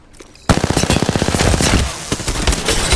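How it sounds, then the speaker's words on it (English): Enemy gunfire in the video game Apex Legends: a sudden loud burst of rapid automatic shots cracking in a steady stream, then continuing in heavier, denser bursts close by. "I am taking fire"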